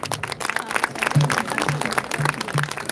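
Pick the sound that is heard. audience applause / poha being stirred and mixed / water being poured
audience applause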